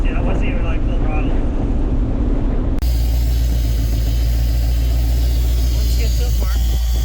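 Squarebody Chevy C30 truck with a 4L80e transmission accelerating at about half throttle, its engine a loud, steady rumble that shifts abruptly in tone partway through, as from a downshift, and carries on strongly to the end.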